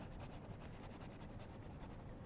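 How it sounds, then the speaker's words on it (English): Quiet, rapid rhythmic rubbing strokes as pencil lines are scrubbed out on a painting canvas, a soft scratchy texture repeating steadily throughout with no voices. "I'm also scrubbing out some of the pencil lines that I put."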